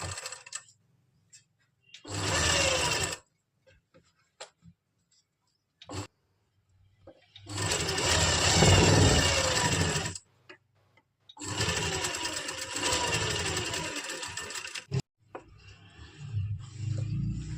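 Sewing machine stitching small stitches along a pressed fabric strip for a pleated kurti, in three loud sustained runs separated by near-silent pauses with small clicks.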